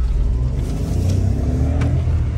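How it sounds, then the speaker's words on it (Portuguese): Car engine rumbling loudly from inside the cabin as the vehicle accelerates, a steady low drone with a rising tone. "Eita, como acelera."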